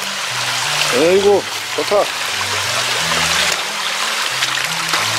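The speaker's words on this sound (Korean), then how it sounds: "물소리 들리시죠?" A mountain stream burbles and trickles steadily nearby in rural Seongju County, South Korea, a continuous flowing wash, with a person briefly speaking over it early on.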